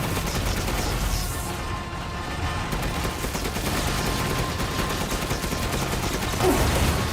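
Sustained gunfire in the horror shooter Resident Evil Village, a dense, loud, continuous barrage of rapid shots lasting several seconds, with no speech over it.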